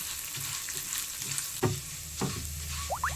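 Urad dal fries in oil, a soft constant sizzle broken by a couple of distinct scraping stirs and a few light clinks near the end, heard up close with no talking.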